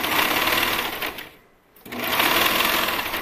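A sewing machine runs fast and steady, stitching elastic onto the edge of a swimsuit, pausing briefly midway and then resuming at full speed, close and alone.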